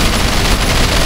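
Dual miniguns blaze in the game Sleeping Dogs, a loud, dense, continuous roar of rapid gunfire with no gaps, filling the whole moment up close.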